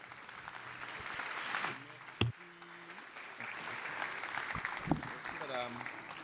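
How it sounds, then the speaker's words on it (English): An audience at a formal ceremony marking the tenth anniversary of the Paris Agreement applauds, a soft, steady wash of clapping heard under a voice speaking over a PA system. "Round of applause."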